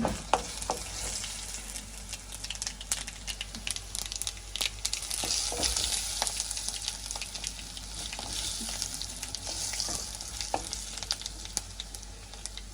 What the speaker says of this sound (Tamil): இப்போ இந்த பைத்தங்காய் நாங்கள் நல்லா வதக்கி எடுப்போம் எண்ணெயில்.